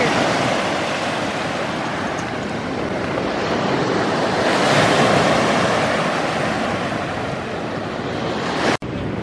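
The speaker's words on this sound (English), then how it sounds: "We're at the beach here at the mouth of the Two-Hearted River." Waves washing onto a rocky beach at the mouth of the Two-Hearted River, a loud continuous surf roar with wind buffeting the microphone and a slow swell in intensity.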